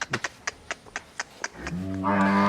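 A jet black cow lets out a long, loud low near the end, following a series of sharp knocking or clapping sounds.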